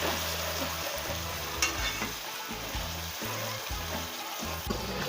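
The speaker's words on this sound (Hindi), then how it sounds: "लहसुन अदरक की पेस्ट की हमने अच्छे से भुनाई करनी है।" Garlic and ginger paste sizzles steadily in hot oil with a little water, the frying broken by repeated scraping stir strokes close up; no one speaks.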